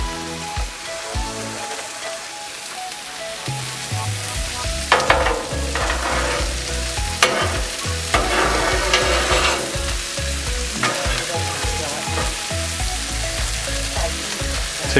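Steak sizzles loudly and steadily on a Blackstone flat-top griddle for Swiss steak, outdoors at a lake, a continuous crackling hiss with brighter bursts as oil spreads, and no talking.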